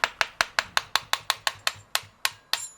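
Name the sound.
hammer tapping turbocharger shaft out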